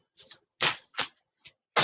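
Playing cards being shuffled by hand during a tarot-style reading: several short, crisp riffling bursts separated by brief pauses, close and fairly quiet.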